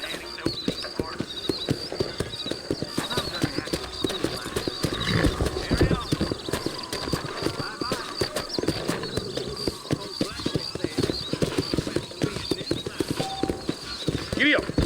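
A horse gallops in the Red Dead Redemption video game, its rapid rhythmic hoofbeats running steadily throughout, with occasional neighing and game music and a voice mixed in.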